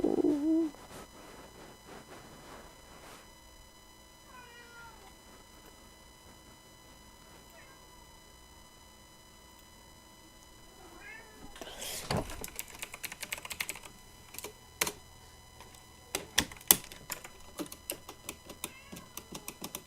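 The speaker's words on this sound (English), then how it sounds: "Listen to Snickers. That's my cat, by the way." Snickers, a pet cat, lets out a few soft meows in a quiet room, followed by a burst of close keyboard clicking and tapping.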